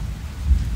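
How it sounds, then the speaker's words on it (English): Steady outdoor rain falling onto wet ground and puddles, a dense, even low rush throughout with a slight swell midway, no voices. "It's raining. Look at the puddles."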